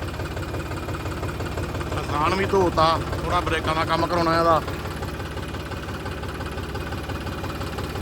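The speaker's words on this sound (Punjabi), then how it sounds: "ਮੈਂ ਮਾਰਾ ਟਰੈਕਟਰ ਗਰਮ ਕਰਦਾ ਪਿਆ ਸਟਾਰਟ ਕੀਤਾ" A tractor engine idles while warming up with a steady low rumble throughout while someone talks over it for a few seconds.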